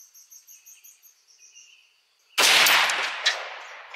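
One sharp, loud rifle shot cracks out at a long range shooting competition aimed at a 100 yard target, with a ringing tail after it and a quieter echo-like bump, following faint insect chirps.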